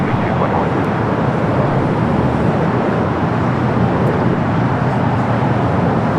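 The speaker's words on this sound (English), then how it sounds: "those aircraft arriving on both sides of the airport at the exact same time" Jet aircraft arriving at Los Angeles LAX airport, a steady broadband roar holding loud and constant throughout, with no voices.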